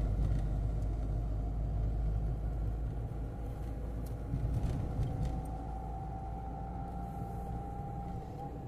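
Car engine rumbling low and steady while driving on a road, a continuous close drone with faint clicks and a mild whine later on, no voices.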